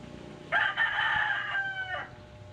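A pet rooster crows once in a loud, drawn-out cock-a-doodle-doo lasting about a second and a half, heard at a moderate distance during motorcycle repair work, with a quiet background and no speech.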